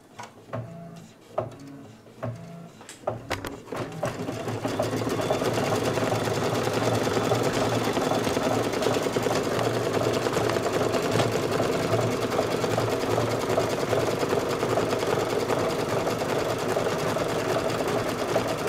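A sewing machine runs a steady appliqué blanket stitch after a few starting clicks and thumps, then settles into a loud, even mechanical whir close by.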